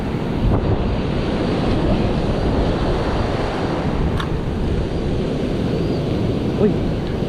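Ocean surf at a coastal fishing spot, a continuous broadband wash of waves roaring steadily and close, with wind buffeting the microphone throughout.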